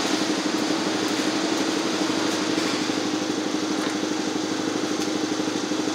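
A 1985 Honda Big Red 250ES with a faulty starter runs as a steady, near small-engine drone with a fast low pulsing throb, unbroken and at even loudness throughout.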